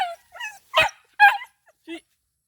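A dog barks several times in short, sharp bursts close by, with brief yips in between and pauses of quiet.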